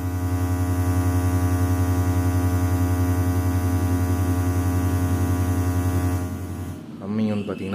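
A 5.1 amplifier board gives off a loud, steady mains hum as soon as it is switched on, a constant buzzing drone that continues for several seconds before dropping away as a voice starts speaking.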